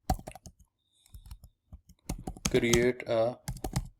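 Keyboard typing while filling in a new ad form in a WordPress dashboard: light rapid key clicks come in short bursts, spread between and beneath a person talking.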